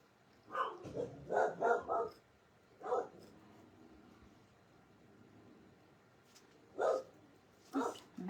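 A dog with a raspy bark gives a quick cluster of four hoarse barks, then a single bark, and after a pause two more, close and fairly loud in a quiet indoor room.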